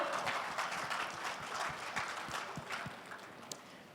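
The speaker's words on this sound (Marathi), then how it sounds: "मान्यवरांसाठी एकदा जोरदार टाळ्या होऊन जाऊ दे" Audience clapping at a press meet for the Marathi Bigg Boss Season 6 launch, a dense, steady patter of many hands filling the room for about four seconds, fairly loud and even, with no speech over it.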